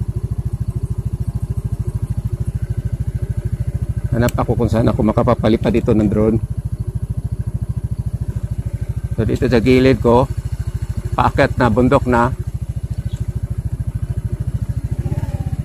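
A Rusi Flex Limited Edition motorcycle idles with a loud steady throb on a mountain road heading uphill, while someone talks over it in several short bursts.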